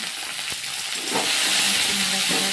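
Vegetables frying in a pan, a continuous loud hiss and sizzle close by, with a few brief knocks as the pan is handled.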